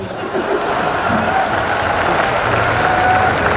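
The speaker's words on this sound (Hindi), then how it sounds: "आपने मेरे स्वागत सम्मान में जो घनघोर तालियां बजाई हैं" Heavy, continuous applause from the audience at a Hindi poetry gathering, a thick wash of many hands clapping at once, loud and steady throughout with faint crowd murmur underneath.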